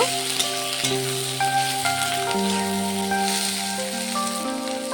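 Green chilli being stirred in a pan with catla fish oil gives a steady, soft sizzle under louder melodic background music, with no talking.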